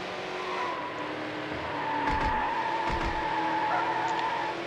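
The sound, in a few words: race cars skidding in video game Need For Speed Hot Pursuit 2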